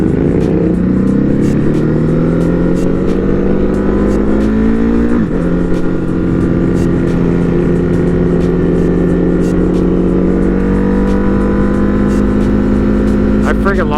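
Motorcycle engine at a bike night, loud and close, holding a strong steady drone with rising and falling pitch shifts like revving, a short dip midway and a climb near the end.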